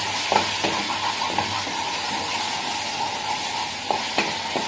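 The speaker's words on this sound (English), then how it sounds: "Sauteing well" Masala sautés in a pan for homemade chicken curry with a continuous sizzle, broken by several sharp scrapes and taps of a spoon stirring against the metal.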